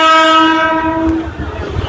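Tebhaga Express (Kolkata–Balurghat, LHB coaches) passing through Dum Dum Junction: a loud, sustained multi-tone horn blares for over a second, then gives way to a rolling rumble of the moving train.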